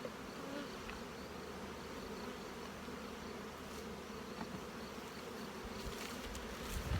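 Honey bees humming in a nuc box, a faint, even buzz that holds steady for several seconds, with a slight swell near the end.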